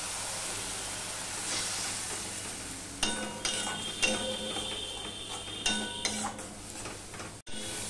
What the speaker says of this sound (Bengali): মশলাটা কষানোর জন্য অল্প একটু জল দিয়ে দিচ্ছি